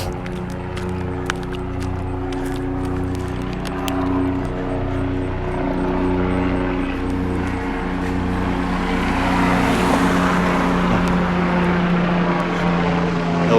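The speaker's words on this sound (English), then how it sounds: "helicopter flying above." A helicopter passes overhead during a city walk near road construction, a steady droning rotor and engine rumble that grows slightly louder toward the end, with faint traffic beneath.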